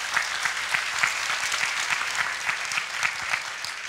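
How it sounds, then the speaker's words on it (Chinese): A lecture-hall audience at a university creative-thinking talk breaks into sustained, even clapping, dense and steady for several seconds without cheers or talk. "来，我们给他掌声。"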